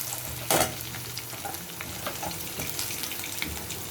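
Potatoes and ground turmeric, chili, coriander and cumin sautéing in a pan, with a steady close sizzle and stirring scrapes and an early louder clatter, with no talking.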